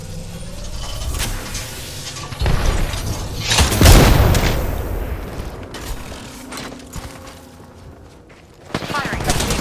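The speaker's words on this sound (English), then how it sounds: "Being shot at." Video game gunfire with rapid volleys and heavy booms while the player is under fire, loud and continuous across the stretch.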